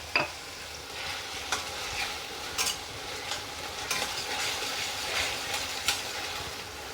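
Spice paste for wedding-style bhetki fish kalia fries in oil with salt added, giving a continuous close sizzle broken by the scrape and clink of stirring strokes at a loose, uneven rhythm.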